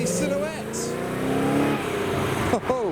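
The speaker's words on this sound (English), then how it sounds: "the Lamborghini Silhouette passes through" A Lamborghini Silhouette drives past at a car meet, its engine note rising and falling as it goes by, with a person talking over the sound.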